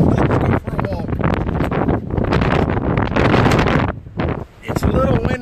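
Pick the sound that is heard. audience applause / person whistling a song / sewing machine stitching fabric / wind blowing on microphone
wind blowing on microphone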